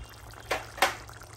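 Lemon juice squeezed from half a lemon into a kaleji gurda (liver and kidney) masala, heard as two brief, soft wet splashes about a third of a second apart, close and quiet with no talk.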